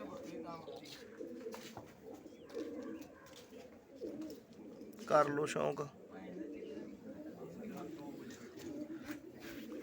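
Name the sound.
pigeons cooing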